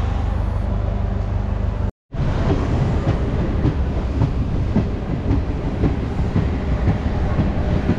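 A passing train, a loud continuous rumble with rhythmic wheel clatter on the rails and a brief dropout near the start, close and steady, no voices.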